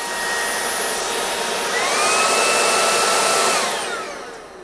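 An Ultenic FS1 cordless cyclone vacuum cleaner, rated 30000 Pa suction, whirs loudly and steadily, its high-pitched motor whine rising slightly in pitch midway, with no talking.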